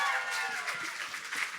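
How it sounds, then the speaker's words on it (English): Applause and cheering from a live podcast audience at City Winery in Philadelphia, a steady crowd wash that carries through the whole stretch. "Give yourselves a round of applause for making it out to the show."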